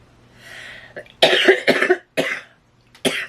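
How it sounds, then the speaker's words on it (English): A person coughs several times in harsh, close bursts, with a short breathy pause and one last cough at the end. "Damn, I don't know why I'm coughing."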